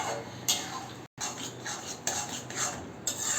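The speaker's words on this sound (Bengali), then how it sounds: "আর যখন করবেন এইভাবে একটু ঘুটে ঘুটে দেবেন, তাহলে লাউটাও সিদ্ধ হবে আর ডালটা খুব সিদ্ধ হবে" A spoon scrapes and knocks against a pot while stirring bottle gourd cooked with mung dal and fried prawns, close and clattery with brief pauses between strokes.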